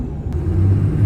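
A stock-tuned 6.7 Cummins diesel truck engine fitted with a Spelab intake horn revs at half throttle, a close, heavy low rumble that swells steadily over about a second.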